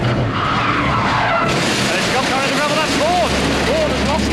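An Audi race car skids off the track into gravel, a loud sustained tyre squeal and scrubbing roar with engine noise, rising squeal chirps near the end.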